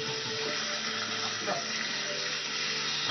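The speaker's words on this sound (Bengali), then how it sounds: "এবারে একটু জল দিয়ে দাও তো, সামান্য একটু" A small amount of water is poured into a cooking pan over low heat, giving a steady, even rushing hiss that lasts the whole short moment.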